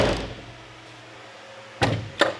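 A door on a 6x6 MTVR military truck swings shut with a loud solid slam, followed shortly by a second sharp bang, after a quiet low rumble.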